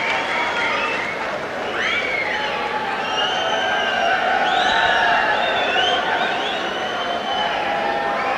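A boxing arena crowd keeps up a steady roar, with shrill wolf whistles rising above the noise again and again for the ring card girl.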